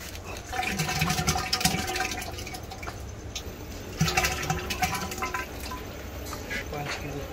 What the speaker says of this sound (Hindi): तो अब यखनी में 5 किलो घी डाला जाएगा।